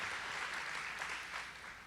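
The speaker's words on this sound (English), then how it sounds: "let's give a round of applause for 30 years." An audience at a university diversity celebration keynote claps steadily, a dense wash of applause that holds, then eases slightly toward the end.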